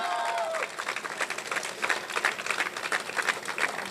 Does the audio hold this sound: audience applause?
yes